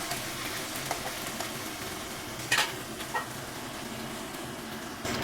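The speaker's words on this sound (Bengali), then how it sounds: "তেল গরম হয়ে গেছে, অল্প অল্প করে আমি মাছগুলো ভেজে নিয়ে ফিরে আসছি।" Mourola fish fry in hot oil with a steady, even sizzle and a couple of brief sharp clinks.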